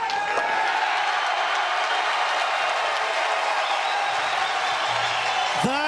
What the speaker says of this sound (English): Listen to the crowd.